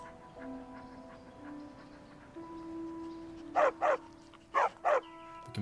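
Four short, loud barks from a dog in the Skyblivion game, coming in two quick pairs over a steady tonal background hum, with no one talking.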